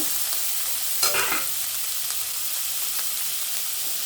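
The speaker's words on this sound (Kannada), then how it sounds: "ಟೊಮೊಟೊನ ಹಾಕ್ತೀನಿ ಇವಾಗ" Chopped tomatoes tipped into a hot pan of ginger-garlic paste for chicken fry, giving a burst of sizzle and stirring around one second that settles into a steady frying hiss, close and alone.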